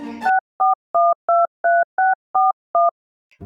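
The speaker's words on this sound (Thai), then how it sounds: "และรีบกดหมายเลขโทรศัพท์" Eight short, evenly spaced two-tone telephone keypad beeps ring out cleanly one after another in a Thai audio drama as a number is dialed, after a brief burst of other sound at the start.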